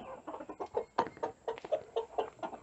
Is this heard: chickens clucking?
yes